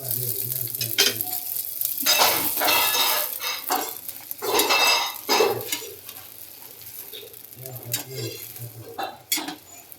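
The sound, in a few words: dabeli being toasted on a pan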